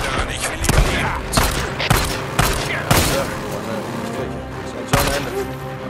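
Gunfire while shooting at Spike in the video game Days Gone, a series of loud close shots at irregular intervals with reverberant tails, a voice talking underneath.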